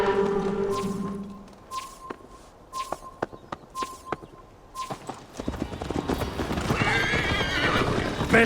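Horse hooves clip-clop in a steady walking rhythm with a loud neigh, from a video game set in Viking-era England; sharp close hoof strikes alternate with the whinny, over music or ambience, with no talk.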